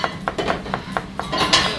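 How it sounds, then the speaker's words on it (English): A knife chops rapidly through cucumber at a Turkish street food stall, giving about eight sharp, evenly spaced clacks on a board in quick rhythm, close and clear with busy ambient noise behind. "Wow, look at those cucumber chopping skills"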